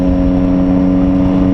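A Triumph Street Triple R motorcycle fitted with a Coffman exhaust holds a loud, steady engine drone for a short moment, its tone constant throughout with no voices.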